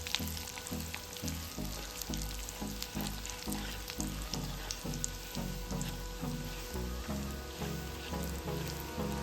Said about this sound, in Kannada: ನೆಕ್ಸ್ಟ್ ಕಡಲೆಬೇಳೆ ಹಾಗೂ ಉದ್ದಿನಬೇಳೆನ ಸೇರಿಸ್ಕೊತಾ ಇದ್ದೀನಿ.